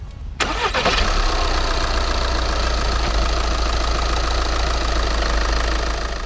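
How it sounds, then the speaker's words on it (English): A 2011 Volkswagen Jetta TDI Highline diesel engine cranks briefly and fires, then settles into a steady, close, loud idle with a clattering diesel knock continuing to the end. "let's do a quick startup of the engine and see how it sounds"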